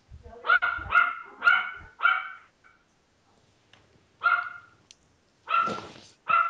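A dog barks in bursts of two or three sharp, close barks, with short pauses between groups.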